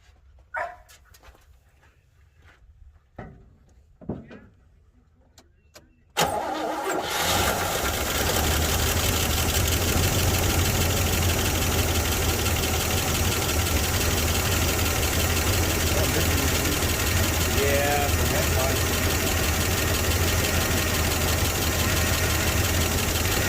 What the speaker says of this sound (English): That 403, it had sat for about 5 years, and that's about what it sounded like when I started it up